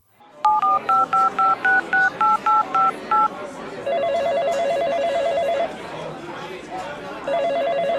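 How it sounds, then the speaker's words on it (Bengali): A telephone is dialed with about ten quick, evenly spaced keypad beeps, followed by a repeating electronic ringing tone in two bursts, fairly quiet, part of a dramatized Bengali horror audio story. "তারপর মোহর তখনই তোমায় ফোন করে।"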